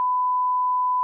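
A single pure censor bleep, a loud steady electronic tone held for about a second and then cut off sharply, with no voices.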